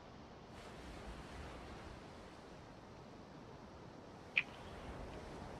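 Steady broadband wash of ocean waves and surf in a Roblox warship roleplay game, continuous and even throughout with one brief sharp click near the end, no talk.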